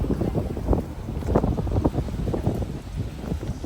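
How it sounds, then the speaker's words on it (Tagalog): Strong wind buffets the microphone in gusty, rumbling bursts, steady and loud throughout with no other clear sounds. "So windy."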